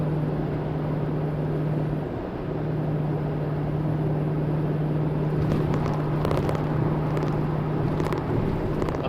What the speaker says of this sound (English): I'm gonna have to say that's acceptable cabin noise.